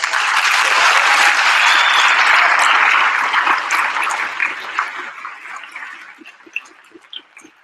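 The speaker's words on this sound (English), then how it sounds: "The hotel staff, please, round of applause." An audience at the 15th Annual Braille Challenge ceremony in Los Angeles applauds the hotel staff, loud sustained clapping that swells at first and then gradually thins into scattered claps toward the end.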